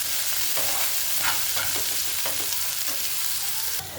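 Onions, green chillies and curry leaves sauté with salt in a hot pan for an egg curry, giving a steady close sizzle with soft stirring scrapes throughout and no talk.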